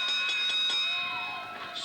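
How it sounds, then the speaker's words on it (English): A bell clangs at a wrestling match in a quick run of four or five metallic strikes, then rings out and fades, fairly near and with no voices over it. "Ring the bell there. Ring the bell."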